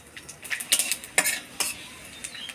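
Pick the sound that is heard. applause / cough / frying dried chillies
frying dried chillies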